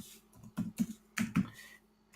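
Computer keyboard keys clatter as code for a simple Node.js HTTP server is typed, with a few irregular bursts of close, crisp clicks and soft thumps in a quiet room.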